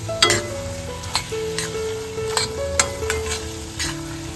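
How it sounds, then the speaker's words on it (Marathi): Ground masala paste and paneer masala are sautéed in a pan, with a close steady sizzle broken by repeated spoon clinks and stirring scrapes, and a faint low hum underneath. "आता आपण वाटप केलेला मसाला घालून घेतो याच्यामध्ये सर्व गोष्टी व्यवस्थित परतावून घेतोय"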